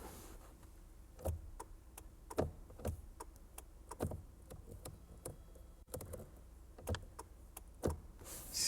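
An electric power-seat motor in a Lexus car whirs quietly, with repeated short clicks and ticks roughly every second over a soft mechanical hum, heard up close in a quiet interior.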